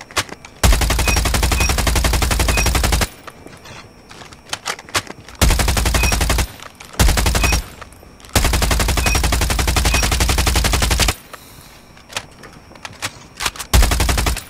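CBR4 assault rifle in Call of Duty Mobile firing in long sustained full-auto bursts, loud and close, with short gaps between several strings of rapid shots.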